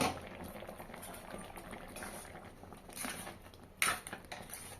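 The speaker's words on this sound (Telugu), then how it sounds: "ఇప్పుడు మూత పెట్టి ఉడకనిద్దామండి" Upma bubbles and simmers in a covered pot on the stove, a soft, steady bubbling with faint clinks of the lid or utensils and no talking.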